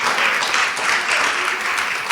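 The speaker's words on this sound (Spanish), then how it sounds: "Dele un aplauso al Señor." A church congregation applauding, dense, steady clapping that holds at an even level for a couple of seconds.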